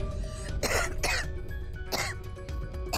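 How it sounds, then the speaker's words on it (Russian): A woman coughs three times, sharp close bursts spaced about a second apart, with a quiet room hum between them. "так кашель бывает"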